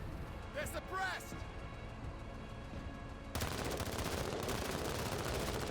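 Sustained automatic gunfire in a tactical war video game on expert difficulty, a dense rattling barrage that starts abruptly partway through after a quieter stretch with a brief electronic chirp.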